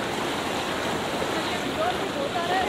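Strong river current rushing steadily during a hand-in-hand river crossing on the way to a Bhadrakali Mata temple at Navratri, a dense continuous roar of flowing water close by, with no speech.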